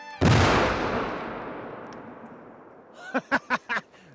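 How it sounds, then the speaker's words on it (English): A single heavy dynamite blast felling a tree outdoors, a sudden loud boom that rolls off into a long fading rumble, followed by several short sharp bursts near the end. "So we do it with dynamite this time"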